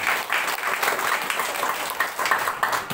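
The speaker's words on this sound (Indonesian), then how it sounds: "Beri tepuk tangan terbaik buat Tuhan Yesus." A church congregation at an outdoor revival service claps together in a dense, steady round of applause lasting a few seconds.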